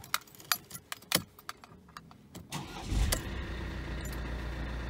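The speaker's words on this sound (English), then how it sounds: "we're going to start it up and run through the gears a few times" Keys jingle and click in a quick flurry, then a Mercedes-Benz car engine cranks and catches, settling into a steady idle.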